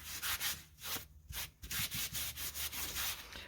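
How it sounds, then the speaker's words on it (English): Paint being rubbed back by hand on a foil-textured surface, a rapid series of rough back-and-forth rubbing strokes, close and fairly quiet, with no talking. "Set this down so I can actually rub it back."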